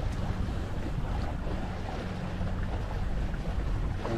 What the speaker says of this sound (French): On glisse sur l'eau parce qu'il n'y a pas de houle.